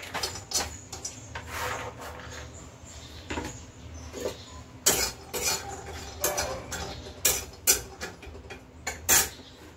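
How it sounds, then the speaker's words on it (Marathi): Cashews dry-roasting in a pan give off an irregular series of close, clattering scrapes and metallic knocks as the spoon stirs, with brief louder bursts between quieter rustling and no voices. "पहिले काजू भाजून घेऊया."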